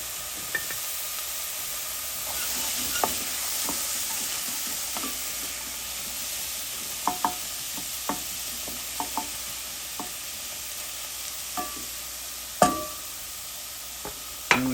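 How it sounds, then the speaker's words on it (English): Vegetables sizzle in a hot pan on medium-high heat while a spoon stirs them for a lasagna soup. A steady frying hiss runs throughout, broken by sporadic spoon clinks and scrapes, with no talking. "we'll keep stirring these around and mixing them up and let them go"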